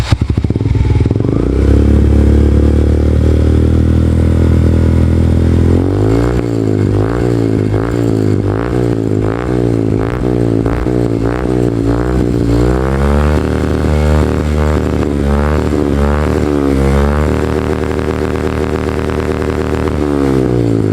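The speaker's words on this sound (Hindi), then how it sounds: "गाइस ऐसा कुछ एग्जॉस्ट नोट था इस वाली बाइक का" A Suzuki Gixxer 155 motorcycle fitted with a fresh Akrapovic exhaust idles loudly, then gets blipped through a long run of sharp, rhythmic revs up close, with no talking.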